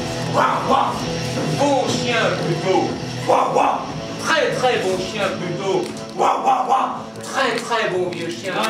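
An old dog barks repeatedly, loud and close, in uneven bursts over about nine seconds, with whimpers and yips mixed in and a person's voice partly audible alongside.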